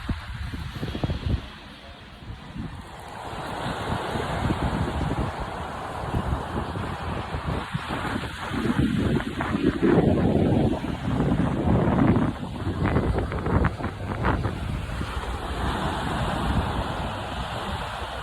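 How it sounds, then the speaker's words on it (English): Ocean waves washing onto the shore under steady wind buffeting the microphone, a broad continuous roar that swells and ebbs over time without any talk. "Final look at the ocean before I let you go."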